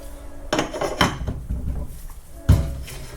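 A Henderson Precision Gen 3 powered case trimmer's stop knocking against the bolt, giving a few separate sharp metallic clacks over a faint background hum.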